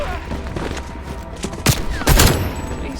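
Gunfire in Call of Duty Black Ops Cold War: distant shots under a busy combat backdrop, then two loud, close bursts of rapid fire in quick succession.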